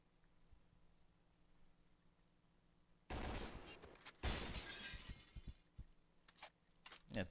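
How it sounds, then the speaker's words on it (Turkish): A glass window shattering in the PUBG video game during an esports match: a quiet stretch, then a loud crash of breaking glass followed by a second burst and scattered sharp impacts and tinkling debris. "Evet, bu fake camı verdi. Kırdı."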